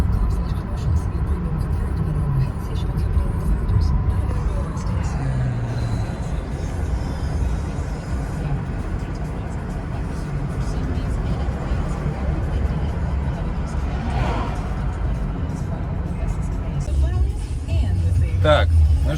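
A car being driven along a road from Daytona toward Orlando, with a steady low engine and road rumble from inside the cabin under someone talking casually throughout.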